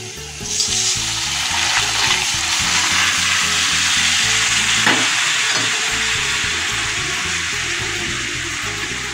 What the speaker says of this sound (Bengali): পেঁয়াজটা ভাজা হয়ে গেছে, এতে আমি দিয়ে দেবো ডাল।